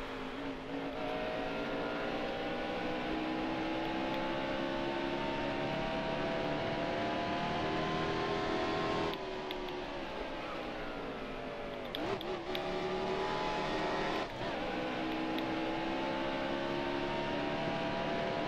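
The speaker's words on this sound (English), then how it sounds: "I just downshifted there." Race car engine in the video game NASCAR Heat Evolution during the Toyota Owners 400, a loud, continuous roar whose pitch climbs steadily, drops sharply as it downshifts, then climbs again, with several brief dips.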